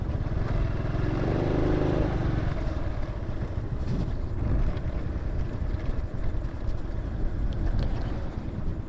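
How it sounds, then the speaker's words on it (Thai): Inside a low-slung car on a rough, bumpy road, a continuous rumbling drone of engine and road noise with wind buffeting fills the cabin, with a few faint knocks and rattles, steady throughout and no talking. "ถนนก็ไม่ค่อยดีนะครับ เป็นขุขระ ขับแบบลำบากรถเตี้ยๆขับลำบากมากนะครับ"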